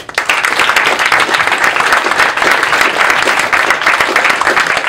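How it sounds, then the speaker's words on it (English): An audience at a tech-week event in New York gives a loud, sustained round of applause, dense clapping that starts abruptly and continues steadily to the end. "a big round of applause for his team at Andreessen Horowitz"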